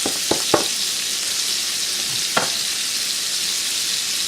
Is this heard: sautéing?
yes